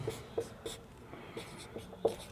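Pen scratching on paper as an example is written by hand, a series of short, close strokes and taps spaced about every quarter to half second, without speech.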